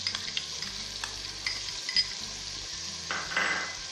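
Tomatoes fry in a hot tempering for vegetable pulao, giving a steady close sizzle with occasional stirring scrapes and utensil clinks, and no talk.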